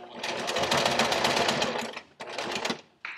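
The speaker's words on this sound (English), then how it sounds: "I'm just going to stitch over the rope" Sewing machine stitching over rope while attaching the strap of an umbrella tote, a close rapid mechanical whir that runs steadily, pauses briefly, then restarts in two short bursts.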